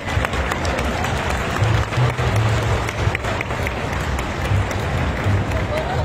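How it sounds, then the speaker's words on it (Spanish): Applause welcoming the cooks at a traditional-dish cooking contest during a food fair in Santiago de Anaya: sustained crowd clapping with a low murmur of voices beneath, steady and fairly loud throughout. "Bienvenidas todas las cocineras, un fuerte aplauso a todas ustedes."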